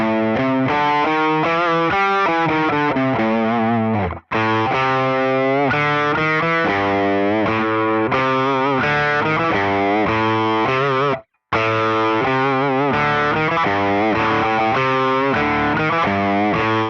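Distorted electric guitar plays continuous blues scale riffs, loud and sustained with two brief gaps.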